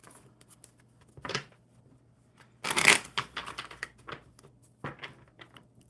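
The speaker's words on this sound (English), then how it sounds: "One more good shuffle." A deck of cards is shuffled at a table in a few separate riffling bursts, soft and close, with quiet gaps between them and one louder shuffle in the middle.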